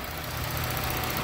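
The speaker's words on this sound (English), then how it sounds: "Engine sounds pretty quiet." A Chrysler 2.7 engine running after a valvetrain repair, a steady, close, even idle hum with no breaks.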